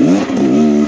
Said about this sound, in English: Oh, I hear some revs.